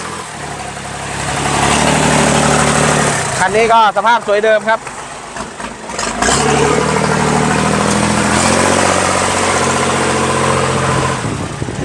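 A small three-cylinder 26-horsepower Kubota L2605 tractor diesel engine idles steadily with a low, even chug, while someone talks over it for much of the time.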